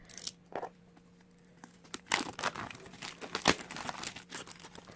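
A package of ordered printed photo cards being torn open, heard as close, irregular bursts of crinkling and ripping plastic and paper over a quiet background.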